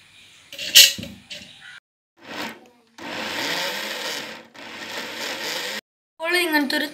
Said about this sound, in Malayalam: നമുക്കൊരു മിക്സിയുടെ ജാറിലോട്ട് മാറ്റിയിട്ടൊന്ന് അടിച്ചിടുക.